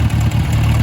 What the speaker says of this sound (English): This tractor also started up nice and easily. I'm gonna turn down the throttle.